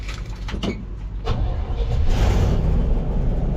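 An old farm vehicle bought at a farm auction cranks and its engine catches, then settles into a steady, loud idle close by, with no voices.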